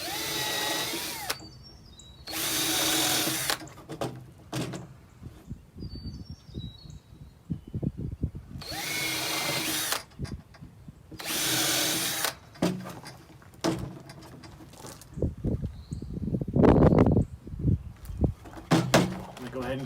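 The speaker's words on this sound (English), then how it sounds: "And we're going to drill these." A power drill bores into wood while building a bird feeder, several loud bursts of whirring spaced apart, separated by quieter handling noises and speech.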